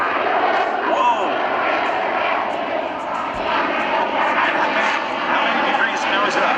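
A jet performing at the 2024 Thunder over Michigan airshow roars steadily and loudly throughout, a continuous broadband engine rush with no break, recorded from the ground.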